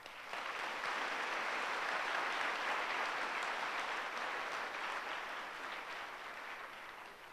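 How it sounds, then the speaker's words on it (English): An audience at an eighth grade middle school promotion ceremony applauds the students with steady, sustained clapping that fills the room and tapers slightly toward the end. "I'd like to give those three students a round of applause again."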